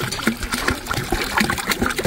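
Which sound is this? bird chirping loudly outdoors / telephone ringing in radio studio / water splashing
water splashing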